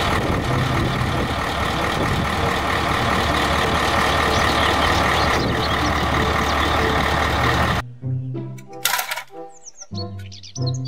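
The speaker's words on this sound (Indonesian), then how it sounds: "Mobil dump truck." A toy dump truck plays a loud electronic engine rumble for about eight seconds. It stops abruptly and gives way to a few short beeps and chirpy tones.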